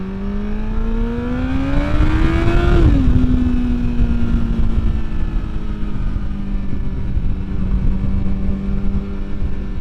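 2023 Yamaha MT-10 motorcycle with a Moore Mafia ECU flash revs up to a rising peak, then drops and settles into a loud, steady high idle drone.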